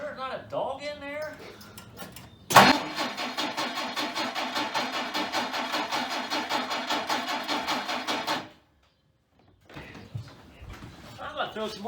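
Engine of a 1959 Plymouth Suburban cranking in a fast, even rhythmic chug for several seconds before stopping, with a sharp click at the start and someone talking just before and after.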